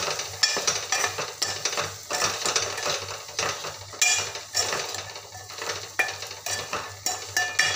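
Spoon or spatula stirring chickpea curry in a pan, with repeated scraping and clinking strokes against the metal over a soft sizzle, steady and close, no voices.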